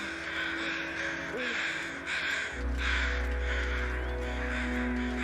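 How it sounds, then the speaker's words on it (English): Carrion crows cawing in The Long Dark video game near a plane wreck: repeated harsh caws overlapping in a steady series, moderately close, over a low constant ambient hum. "I hear lots of carrion crows, probably because we're near the plane wreck"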